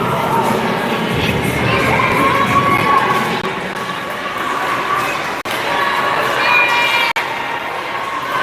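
A hockey game crowd cheers and shouts continuously in an arena, a loud sustained roar of many voices with higher-pitched youthful yells rising above it, plus two sharp brief knocks partway through.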